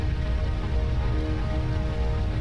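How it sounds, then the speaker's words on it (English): Rain pattering on a spaceship during on-planet flight in the space game Evochron Mercenary, a loud, dense, unbroken patter that holds steady throughout. "I think this is rain currently on my ship right now."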